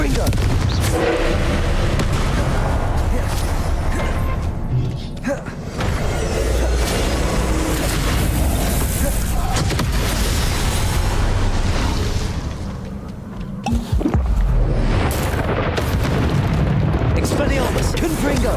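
Spell blasts from Confringo in the Hogwarts Legacy video game on Nintendo Switch, loud booming explosions that keep going under dense battle noise and music, with shouted spell names over the top.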